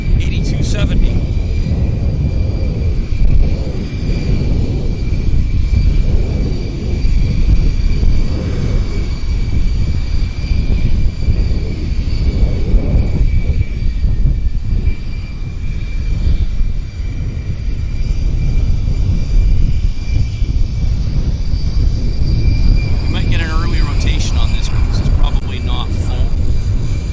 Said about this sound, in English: this regional jet is heading to Kelowna